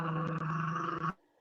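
A single sustained, low, rumbling growl from a dog, close and steady for about a second, cutting off abruptly into quiet.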